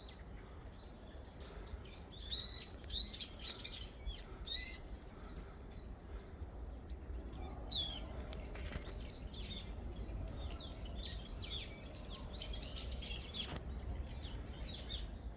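Sharp, shrill calls of brown-eared bulbuls feeding among cherry blossoms on Seunghaksan ring out repeatedly over a steady outdoor murmur, some close and loud, others farther off.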